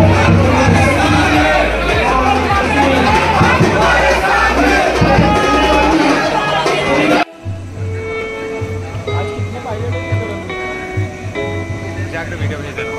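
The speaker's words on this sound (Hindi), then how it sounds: "बाप रे बाप क्या ज्यादा भीड़ है यहाँ पर" A dense crowd fills Ballarshah railway station in a loud, continuous wash of voices and bustle. Partway through, the sound drops and becomes thinner as if the listening spot changes, leaving a lower murmur with scattered nearby noises.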